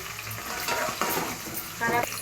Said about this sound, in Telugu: పచ్చిమిరపకాయలు ఇవి కొంచెం వేగనివ్వాలి. కొద్దిగా కరివేపాకు.